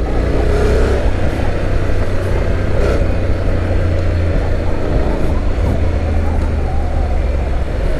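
A Honda X-ADV 750 scooter ridden through curves, its engine droning steadily with shifting revs under heavy wind rush, loud and continuous for the whole stretch.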